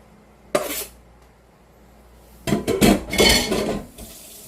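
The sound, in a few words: minced garlic added to pan and stir-fried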